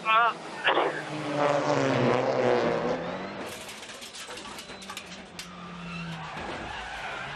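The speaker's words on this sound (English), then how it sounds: "Suddenly, the rear locks up." Touring race car at a WTCR round in Morocco skids as its rear wheels lock under braking, a loud screeching tire smear over engine noise, with a commentator talking over it.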